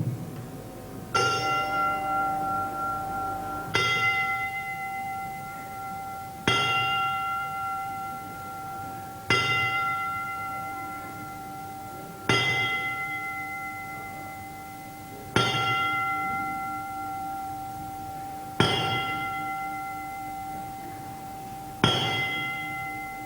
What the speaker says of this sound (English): Damien Membry, would you toll the bell 10 times?